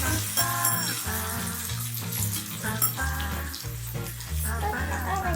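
Aubergine fries in a little oil, a continuous close sizzle that stays fairly even throughout, with tonal background sound layered over it.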